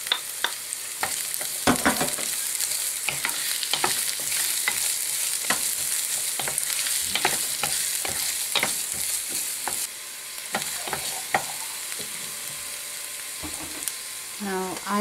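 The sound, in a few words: frying onion in a pan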